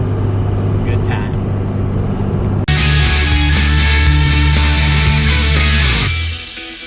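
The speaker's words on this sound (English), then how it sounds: "we've been driving through the middle of the wilderness for a while" Car driving along a remote wilderness road in Michigan's Upper Peninsula, a steady close engine and road rumble that grows louder partway through before easing off at the end, with talking over it.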